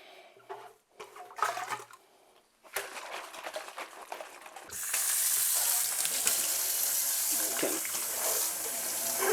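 A flask of yeast starter for beer brewing is shaken, with liquid sloshing and clinking at first, then a steady loud wash of running water to the end.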